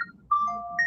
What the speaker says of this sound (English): Somebody's phone ringing. That's my phone.